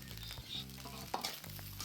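Vegetable pulao rice mixed with ghee is stirred in a pot, a faint soft sizzle with brief scraping strokes of the spoon, quiet and close, no talk.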